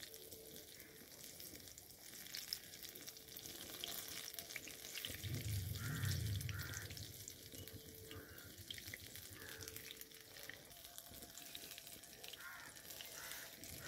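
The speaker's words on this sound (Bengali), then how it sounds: "সব আমের ফুলুরিগুলো তেলে ছাড়া কমপ্লিট।" Mango fritters deep-frying in hot oil give a steady, moderate crackling sizzle throughout, with a few soft clinks and a low rumbling swell midway; no one speaks.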